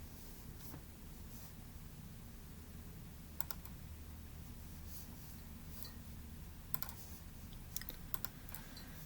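Faint computer mouse clicks in a quiet room, a few isolated taps followed by small clusters of quick clicks over a steady low hum.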